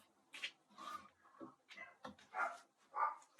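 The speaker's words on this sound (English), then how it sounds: "There goes my dog barking." A dog barks repeatedly, about half a dozen sharp, fairly close barks at uneven intervals with quiet gaps between them and no talking.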